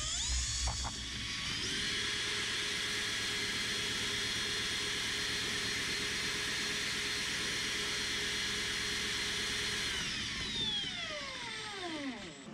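Cordless drill motor running in low gear on a bench power-output test, a steady high-pitched whine held for about ten seconds before it winds down and fades out near the end.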